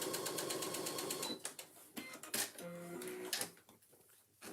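Sewing machine stitching the back pieces of a handbag, heard as bursts of rapid mechanical stitching with short pauses and handling noises between runs.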